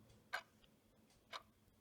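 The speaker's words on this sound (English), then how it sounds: "the sound of the clock ticking away on your wall" A wall clock ticks softly in a quiet room, two faint, evenly spaced clicks about a second apart against a low background hush.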